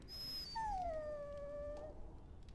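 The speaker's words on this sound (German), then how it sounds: "Der verdammte Köter macht nichts als Ärger." A dog in the Dragon Age Origins video game gives a single drawn-out whimpering howl that slides downward and fades, clear and close against a quiet background.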